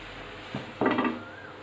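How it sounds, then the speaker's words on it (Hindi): A spoon scrapes and knocks against a pot of boiling milk on a lowered flame in a home kitchen: a soft tap, then a louder scraping stir over a steady low background hiss. "और इस तरह इसको हिलाते रहेंगे।"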